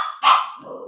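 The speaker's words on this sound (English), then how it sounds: "the sounds of the puppy going crazy over the bird" A puppy, worked up over a bird, gives one loud sharp bark close by, followed by a softer trailing yelp with faint room noise around it.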